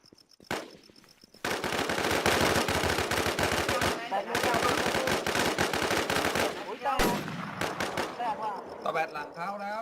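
Gunfire in a video game crackles in dense, rapid bursts of machine-gun shots, loud and sustained with brief gaps, while an excited voice talks over it.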